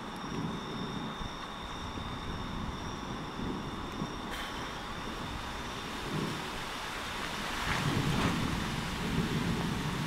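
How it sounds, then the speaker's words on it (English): Steady rain pours down continuously during a thunderstorm in North East Texas, with low rumbling swells like distant thunder rolling in toward the end. "There's a storm coming in."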